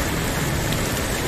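Rain falls steadily in Chennai during the rainy season, a dense, even hiss of drops on surfaces that holds at constant loudness throughout with no voices.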